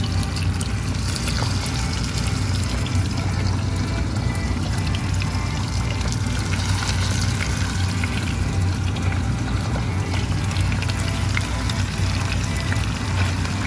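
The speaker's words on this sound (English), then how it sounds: "Who else also loves the sizzling sound of frying things?" Steady, dense sizzling and crackling of chicken wings frying in hot oil, continuous and close throughout without any talking.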